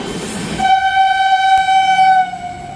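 A loud, steady train horn blares for about two seconds over the rumble of a passing train, then cuts off, leaving the rolling noise.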